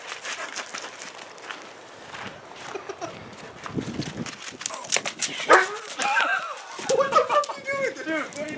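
A dog outdoors gives a mix of excited yips, short barks and whimpers, close by and intermittent, heard among people talking and shouting.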